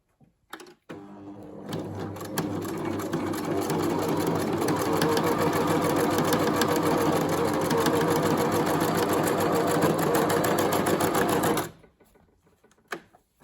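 A sewing machine stitches lines along a fabric sample, a fast rapid mechanical chatter starting after a couple of short taps, running steadily for about ten seconds, then stopping abruptly, close and clear.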